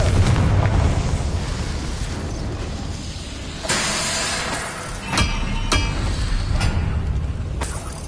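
Spell explosions from Confringo cast in the game Hogwarts Legacy, several loud bursts with sharp cracks and brief crackling debris over a constant background rumble, alone without talk.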